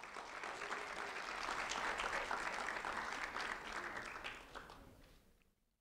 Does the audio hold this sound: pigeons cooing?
no